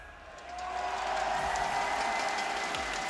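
Crowd at a live esports event, the NLC Summer split, cheering for Los Ratones: a steady wash of applause and crowd noise that swells after the first half-second and holds loud and even to the end.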